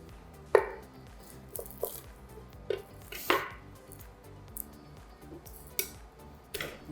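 Garlic cloves sliced thinly with a knife on a cutting board, a series of sharp, separate knife taps at an uneven pace, close and clear, over a low steady kitchen hum.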